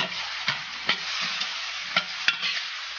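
Beef kidney stir-fried in a wok with chili flakes, sesame and garlic sauce, a steady loud sizzle broken by several sharp scrapes and clacks of the spatula against the metal, with no voices.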